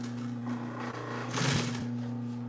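A sewing machine runs steadily through upholstery fabric, its motor hum holding constant with a brief louder surge midway, close up with no talking.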